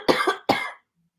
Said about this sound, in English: I got this horrible tickle in my throat.